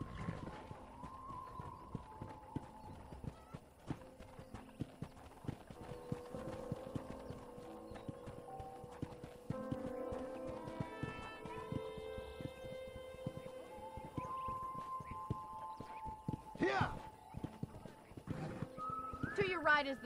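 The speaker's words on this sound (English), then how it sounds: "let's see if you can still ride a horse" Horse hooves clip-clop at a steady pace in Red Dead Redemption, with voices talking over them and faint musical tones in the background.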